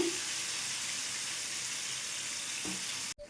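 Banana and date snacks fry in hot oil over a high flame, a steady dense sizzle running throughout with a faint scrape of turning near the end before a sudden cut.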